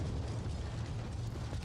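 A torpedo strikes an enemy ship amidships in the Ultimate Admiral: Dreadnoughts naval game, producing a dense, sustained low rumbling explosion with crackling debris, loud and close, with no speech over it.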